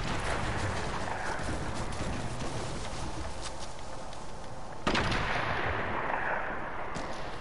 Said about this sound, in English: they're sniping at me